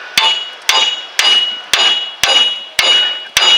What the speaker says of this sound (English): I'm just going to use a regular hammer here